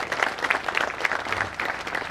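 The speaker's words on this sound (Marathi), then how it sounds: "सर्वांनी जोरदार टाळ्या वाजवा." An audience at a ceremony in Pune claps in a steady, moderately loud burst of applause, the clapping dense and continuous throughout.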